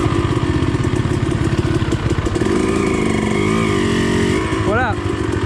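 Dirt bike engines, including an RM250, CRF450 and CRF110, chug and rev on overgrown trails, loud and close with rising throttle blips, while riders talk over the noise.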